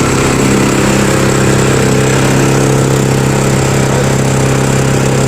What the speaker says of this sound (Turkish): Bu şekilde motoru da çalıştırdık arkadaşlar.